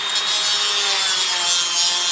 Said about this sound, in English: we're going to use the Dremel and we're going to just shave them off